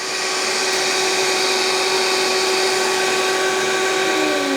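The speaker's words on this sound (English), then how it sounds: "So we're just gonna put that on nice and tight and blend it up." A blender runs continuously, whirring collard greens with liquid aminos into a creamy mix, a steady high-pitched motor whine held close and loud throughout with no voices.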